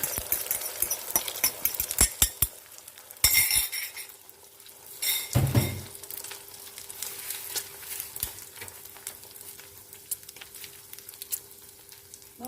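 Eggs sizzle in a hot pan of olive oil amid sharp clatters of utensils, with the frying hiss swelling in bursts.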